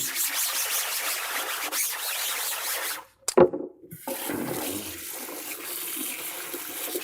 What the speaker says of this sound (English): just the force of this water is entirely cleaning that screen